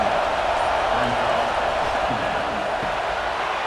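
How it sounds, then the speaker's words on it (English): Steady stadium crowd roar from a simulated Tennessee versus Auburn college football video game, a dense constant wash of noise running throughout with faint commentary-like voices beneath. "This crowd bringing the energy and noise early."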